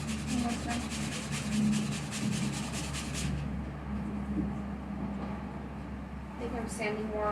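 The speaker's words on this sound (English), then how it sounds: "Don't go too ballistic on the sanding." Foam is sanded by hand while shaping a battle axe, with fast rhythmic rasping strokes for a few seconds and then quieter rubbing, under ongoing conversation in a room with a steady background hum.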